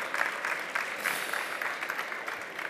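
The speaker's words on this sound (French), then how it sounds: "On peut vous applaudir." An audience at a conference talk claps for a speaker, a steady patter of many hands at moderate distance, fairly soft and even throughout, with no talk over it.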